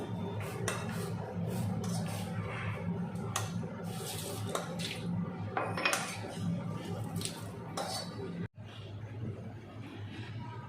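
Cooked minced meat being poured from a pan onto a plate, with clinks and scrapes of a spoon against cookware and plate, close and busy, broken by a brief pause near the end.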